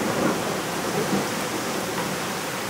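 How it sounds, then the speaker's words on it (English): Thunderstorm with heavy rain, a dense steady roar of rainfall under a low rumble of thunder, continuous and loud with no voices. "It's a storm."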